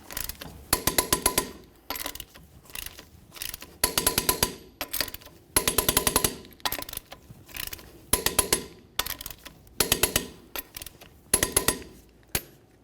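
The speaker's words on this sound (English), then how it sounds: "let's torque these to 140 foot-pounds in a crisscross manner" A torque wrench clicks and ratchets in short rapid bursts as lug nuts on a Chevrolet Silverado 1500 wheel are tightened to 140 foot-pounds in a crisscross pattern, each burst a close, crisp series of metallic clicks separated by brief pauses.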